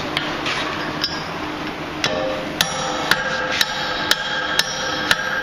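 A blacksmith hammers hot iron while forging a pintle: sharp metallic strikes ring out roughly every half second over a steady background hum, close and clear.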